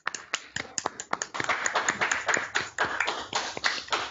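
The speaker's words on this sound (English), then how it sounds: "let's have another round of applause for Pippa" A classroom of students claps after a presentation, a scattered run of hand claps that builds into steady, fairly close applause lasting several seconds, with no talking over it.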